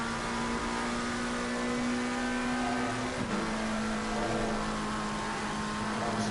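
A GT3 race car at Spa-Francorchamps in Assetto Corsa Competizione, its engine droning loudly and steadily, with a brief dip and pitch change around the middle as it shifts down a gear under braking.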